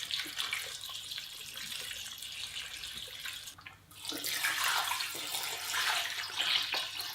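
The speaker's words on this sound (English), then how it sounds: "And then the only thing left to do is fill it up with water." Tap water runs into a stock pot in a kitchen, a steady hissing splash that briefly stops and then resumes louder and fuller as the pot fills.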